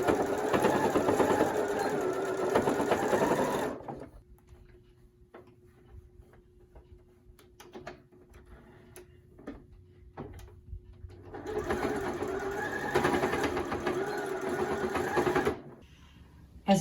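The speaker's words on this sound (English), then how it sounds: "So I'm just going to sew across the top here." A sewing machine stitches across the top of a fabric face mask in two loud, steady whirring runs, each several seconds long, with a quieter stretch of faint clicks and handling noises between them.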